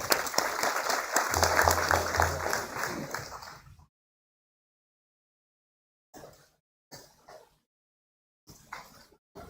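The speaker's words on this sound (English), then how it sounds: "Let's give them a round of applause." Audience applause for workshop presenters at a skills summit, a few seconds of steady clapping that fades out, followed by silence and short scattered sounds.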